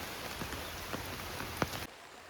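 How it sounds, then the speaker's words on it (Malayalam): Heavy rain falls steadily at a temple, a dense hiss of drops on hard surfaces with a few sharper splashes, cutting off abruptly near the end. "ഇപ്പൊ അമ്പലത്തിൽ വന്നാട്ടോ, നല്ല മഴയാണ്."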